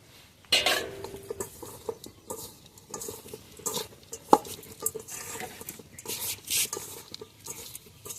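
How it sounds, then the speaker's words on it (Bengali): Whole cumin and coriander seeds with chaat masala are mixed in a bowl: repeated scraping strokes and light clinks of a utensil, close and fairly quiet, with no talking. "আস্ত জিরে, আস্ত ধনে, এগুলো সব এখন ভালোভাবে মাখিয়ে নিচ্ছি"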